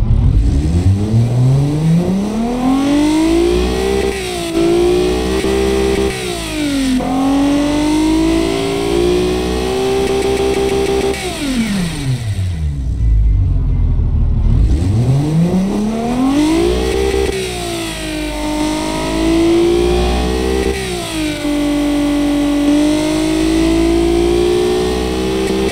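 A turbocharged car engine revs hard and close, climbing to a high whine, dropping to a deep low idle near the middle, then winding back up into a sustained scream with no talking.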